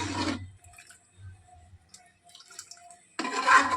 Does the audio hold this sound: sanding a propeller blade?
no